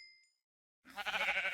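A Minecraft sheep bleats once, a loud wavering cry that starts after a short silence and holds to the end, with a faint tonal blip at the very start.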